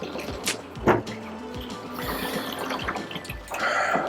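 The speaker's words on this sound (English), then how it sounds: "So we put the drum in the processor, hit start." Water sloshing and dripping inside a rotating film processor drum during a pre-wash, with a low mechanical hum and a few knocks and clatters.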